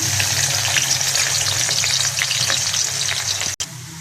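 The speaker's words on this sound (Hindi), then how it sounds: "ये मुकम्मल गर्म हो चुका है। अब मैं इसमें प्याज डाल देती हूँ।" Chopped onions go into fully heated oil for an aloo curry and fry with a loud, steady, dense sizzle throughout, with a brief dropout near the end.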